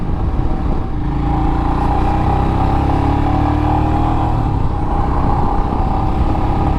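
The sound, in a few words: modified motorcycle exhaust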